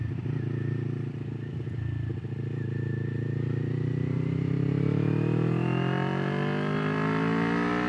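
A 2021 Kawasaki Ninja 400 engine accelerates in second gear, its pitch climbing steadily as the revs build, loud and continuous with no talk.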